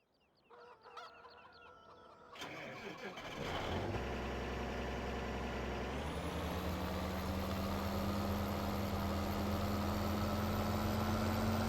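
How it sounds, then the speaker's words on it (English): A John Deere 9560 RT tractor in Farming Simulator 17 starts up and settles into a steady, droning engine idle after a few seconds of clucking chickens, with a rising whine as the engine takes hold. "There's our new tractor."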